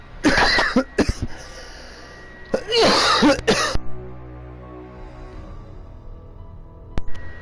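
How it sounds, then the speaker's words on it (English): Several loud, harsh coughs in two clusters near the start, followed by quieter background and a single faint sharp sound near the end; no talking. "I'm not gonna cut out any of the coughing"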